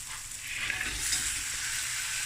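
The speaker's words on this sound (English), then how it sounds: "Now I'm going to add my prawn" Head-on prawns, cleaned and deveined, hit a hot frying pan and sizzle steadily, a loud, close, continuous hiss with no pauses.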